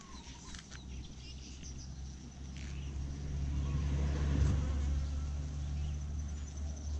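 Honeybees buzz around an opened hive box during a beekeeping session adding a second super, a dense continuous drone close by that swells louder midway, with occasional single bees passing near.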